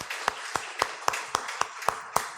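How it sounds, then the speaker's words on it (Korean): Rhythmic clapping at a Sunday church service, about eight evenly spaced sharp claps at a brisk steady beat, fairly faint with a small room's echo. "하나님 영광의 박수를 드리겠습니다."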